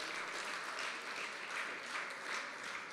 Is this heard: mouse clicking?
no